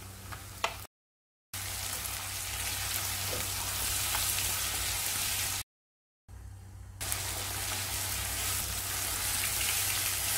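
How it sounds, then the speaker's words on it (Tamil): Tomatoes sauté with onions in a pan for Chettinad pepper chicken, a soft continuous sizzle with a faint low hum, twice cut by brief silences before the frying resumes. "தக்காளி சேர்த்து வதக்கலாம்."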